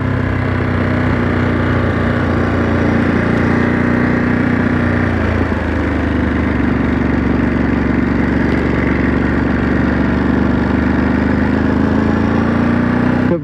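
Steady low-speed engine note from a 2023 Ducati Monster SP motorcycle, a loud, close, continuous drone with a brief dip in pitch midway, then settling back to an even hum.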